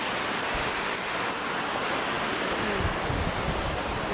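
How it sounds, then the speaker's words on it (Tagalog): Strong wind gusting steadily outdoors during a rainstorm, a loud, continuous broadband rush with no talk, like roaring surf. "Malakas po ang hangin,"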